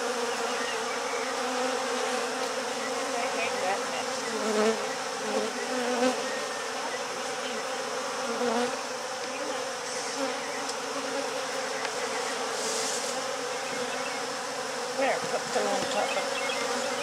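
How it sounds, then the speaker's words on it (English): Dense, continuous buzzing of many honeybees swarming around a hive nearby, a steady droning hum with no talking. "I got these bees out of his house"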